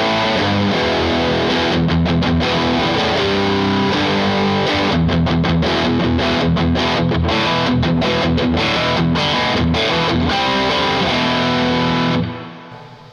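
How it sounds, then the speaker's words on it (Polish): Heavily distorted electric guitar, a Sterling by Music Man CT50 HSS Cutlass, played loud and dense with chords and rhythmic chugs for about twelve seconds before the sound cuts off and fades. "Włączam, słuchajcie, przester."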